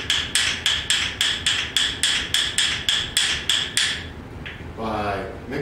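Percussion bones clicked in a fast triple-stroke rhythm, a dozen bright, sharp clacks in even succession, close and crisp, followed by a short pause and a brief murmur of voice at the end.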